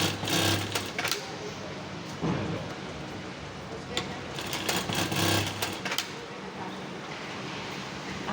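A sewing machine topstitches a seam on the side of a two-seat upholstered backrest, running in steady stretches with brief stops, close and fairly loud.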